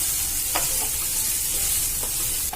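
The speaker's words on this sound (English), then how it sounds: "Add the onions. And stir it for some time" Onions stirred and sautéed in a pan while cooking a pumpkin sabzi, giving a steady close sizzle with a few soft spoon scrapes against the pan and no talking.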